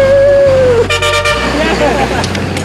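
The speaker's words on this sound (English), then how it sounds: "Come on, everybody, keep honking, keep honking." Car horns honking in dense Vietnamese street traffic through narrow industrial streets with trucks and repair shops, a close loud toot followed by several short overlapping honks amid engine rumble.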